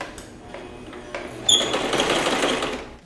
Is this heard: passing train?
no